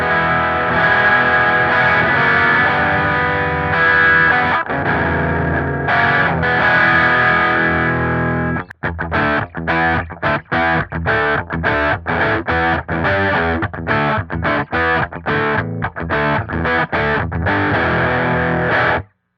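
Electric guitar played through the purple rhythm channel of a Revv G20 amp with the gain turned down, first ringing sustained chords, then tight, choppy strummed rhythm with short stops, loud and close with no talking.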